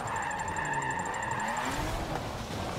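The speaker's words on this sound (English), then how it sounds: "This thing can definitely drift." A BMW race car drifting in the video game Forza 7, with a steady engine drone and tire squeal throughout, the pitch sliding as the car swings through the slide.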